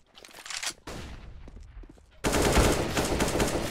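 Gunfire in the video game CS:GO: short bursts of shots at first, then a sustained, loud rapid volley of automatic fire that fills the final second and a half.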